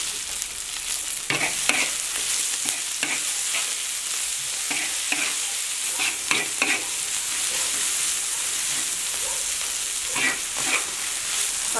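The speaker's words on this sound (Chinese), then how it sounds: "我们现在先把辣椒炒一下，油不怎么烫的时候。 大蒜头先炒" Garlic and chili peppers stir-fried in oil in a wok, with a steady close sizzle and repeated scraping strokes of a spatula at an irregular rhythm, no talking.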